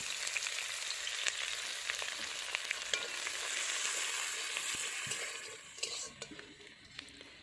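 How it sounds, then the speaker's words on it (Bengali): Chopped onions fry in oil in a wok that previously fried fish, giving a continuous close sizzle with frequent spatters and stirring scrapes that thin out near the end; no clear speech. "দিয়ে দিলাম পেঁয়াজ কুচি"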